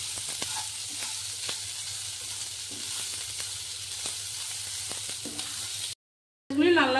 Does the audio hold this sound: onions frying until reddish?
yes